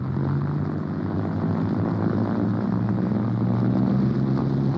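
A Languedoc airliner taxiing across the apron at London Airport in 1949 gives off a steady, droning propeller-engine rumble, continuous and fairly loud with no pauses.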